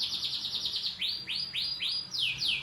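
A canary chirps in a quick series of bright, rising-and-falling whistled notes, about a dozen in close succession with brief gaps, clear and fairly near against a faint background hiss.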